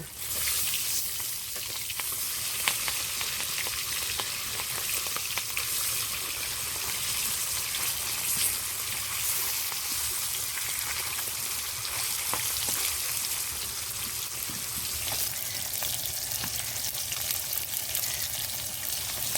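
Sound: rohu fish frying after being flipped

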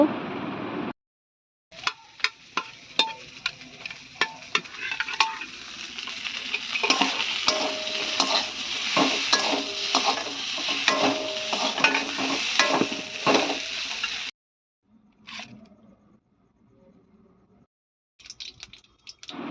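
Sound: stir-frying cauliflower in spices

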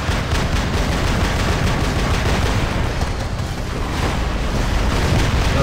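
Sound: robot firing rockets in the video game War Robots

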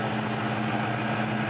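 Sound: Pontiac GTO with SLP Loudmouth exhaust idling

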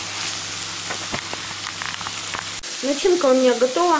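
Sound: mackerel being stirred and fried in a pan

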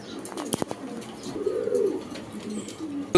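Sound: pigeon cooing

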